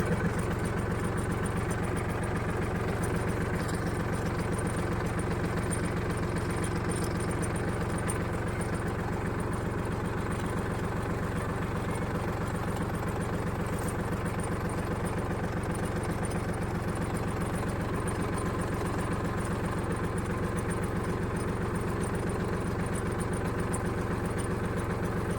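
A tractor engine runs steadily in a field, a constant low rumble with a droning mid-range hum and no change in pace throughout, fairly close and unbroken.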